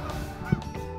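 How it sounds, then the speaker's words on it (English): Canada geese honk close by in a park, a dense overlapping chorus of nasal calls with one louder honk standing out midway, no voices present. "stalking some Canadian geese who had landed here in the park"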